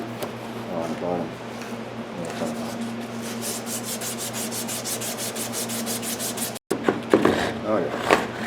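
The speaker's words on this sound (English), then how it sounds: "Oh yeah, emery cloth will do the trick." Emery cloth rubs back and forth against a rusty rear axle on an Arctic Cat snowmobile, quick rhythmic scraping strokes close up, with a brief break before the rubbing resumes.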